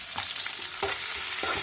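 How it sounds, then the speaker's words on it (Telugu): Tempering seeds hit hot oil for a village-style brinjal, pea and tomato curry, giving a steady close sizzle with a few sharper crackling pops, and no voices. "తాలింపు గింజలు కూడా కలుపుతాము."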